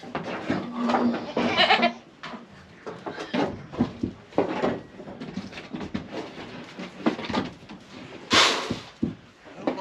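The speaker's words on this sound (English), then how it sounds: "So I'm gonna feed the goats first" Goats bleat repeatedly in a farm barn around feeding time, a busy chorus of overlapping calls at varying distances, with one loud, sharp cry standing out near the end.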